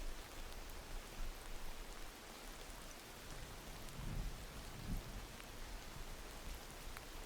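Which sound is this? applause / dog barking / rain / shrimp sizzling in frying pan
rain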